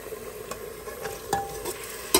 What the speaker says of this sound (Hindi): हम डाल देंगे टमाटर और हरी मिर्च जो हमने काटे थे वो हम डाल रहे हैं इसमें